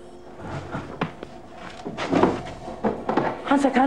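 A wooden drawer slides open with scraping, knocking rattles amid soft speech and room noise in a film scene.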